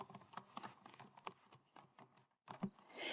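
Keystrokes on a computer keyboard tap out in quick, irregular bursts with a short pause near the middle, close and fairly quiet in an office setting.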